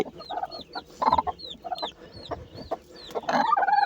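A hen on a farm clucks repeatedly at close range in short, irregular bursts, with other fowl sounds mixed in and no one speaking.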